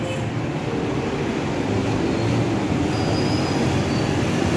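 A metro train rumbles at a Lahore station, a steady loud low roar of rolling cars with a faint high squeal of wheels.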